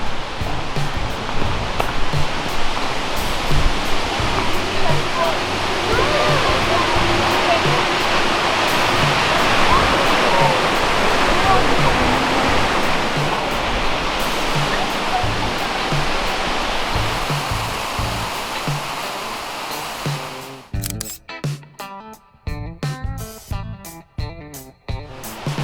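A waterfall in the Columbia River Gorge roars as a loud, steady rush of falling water for about twenty seconds, then cuts to choppy, uneven noise near the end.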